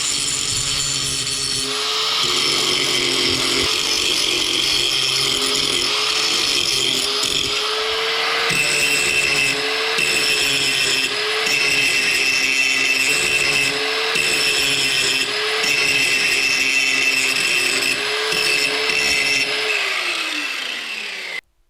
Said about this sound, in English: And here we're going to get ready to do some grinding.